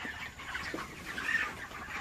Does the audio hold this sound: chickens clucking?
yes